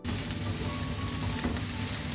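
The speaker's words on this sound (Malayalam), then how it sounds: "Soybean roast ആയിക്കൊണ്ടിരിക്കുവാണ്." Soybeans fry in hot sunflower oil, giving a continuous close sizzle with faint stirring scrapes throughout and no talking.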